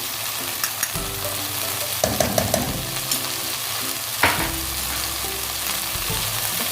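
Tomato paste for pizza sauce frying and being stirred in a pan: a continuous close sizzle under a low steady hum, with a quick cluster of spoon taps against the pan midway and a louder scrape near the end.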